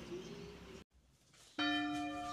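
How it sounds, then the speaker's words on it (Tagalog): A church bell rings out loudly, its sustained overtones surging in after a brief lull and quieter muffled sound. "habang palakas ng palakas ang pagtugtog ng kampana"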